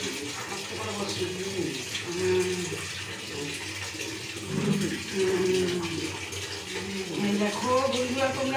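Water runs and splashes steadily in a home bathroom while an elderly woman is bathed on a chair, with voices talking over it throughout.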